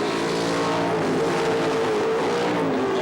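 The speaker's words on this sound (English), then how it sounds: "Snapping at the heels of Colin Bond's Falcon as they run down the straight" A Holden Torana and a Ford Falcon touring car race down the straight at Sandown during the 1977 Australian Touring Car Championship, their engines roaring steadily and loudly with a droning, sustained note.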